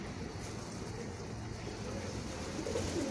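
A flock of pigeons gathering around someone eating, soft low cooing over a faint steady background hum, with no speech.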